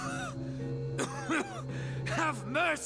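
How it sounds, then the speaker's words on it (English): A character in the fantasy role-playing game Pillars of Eternity gives a couple of rough, throaty coughs amid strained, groaning vocal sounds, close and moderately loud. "He shudders with a cough."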